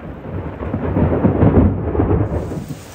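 Thunder rolls through a lightning storm, a loud sustained low rumble swelling and fading over a few seconds with a hiss of rain behind it, no voices.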